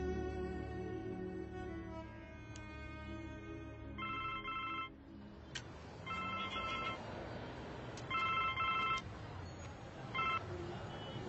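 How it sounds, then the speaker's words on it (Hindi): A telephone call placed to a police station in Ara: a ringtone with repeated electronic ringing bursts at regular intervals sounds over a sustained tonal background. "आरा थाना फोन लगाइए तो हीरामन जी।"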